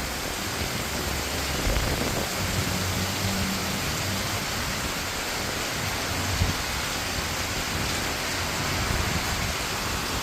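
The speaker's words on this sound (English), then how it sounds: "But beautiful rain." Steady rain falls in a dense, continuous hiss throughout, even and unbroken with a few faint louder spots, and no talking.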